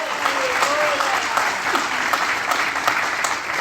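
A church congregation applauds with a full, continuous round of clapping while a faint voice or two rises briefly underneath.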